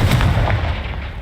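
A Confringo fire-blast spell goes off in Hogwarts Legacy as one loud, heavy boom with a rumbling, fiery burst that fades quickly.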